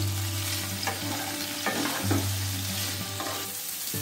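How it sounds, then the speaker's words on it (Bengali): Young jackfruit and potato pieces fry and get stirred in a pan, giving a steady close sizzle with intermittent scraping and clattering strokes of the spatula, and no voices. "নেড়ে চেড়ে লাল লাল করে ভেজে নেব।"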